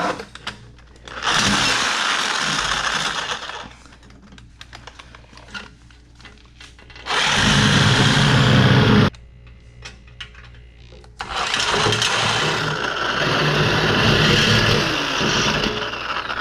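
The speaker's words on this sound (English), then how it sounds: "Now we'll use our Sawzall to cut through this." A Sawzall reciprocating saw cuts through the rear subframe bushing of a 2015+ S550 Mustang in three loud, rasping bursts separated by quieter pauses, with no talking.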